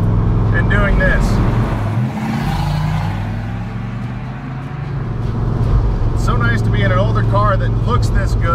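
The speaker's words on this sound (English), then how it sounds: "Those side pipes just sound so awesome." A loud, deep engine rumbles continuously from inside a moving 1965 Corvette Sting Ray Coupe with side pipes, droning and swelling slightly, with a person talking over it.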